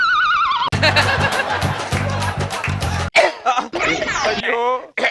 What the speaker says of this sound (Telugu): అమ్మవారికి వేడుకుంటున్నా కూడా మీ దగ్గు పోవట్లేదే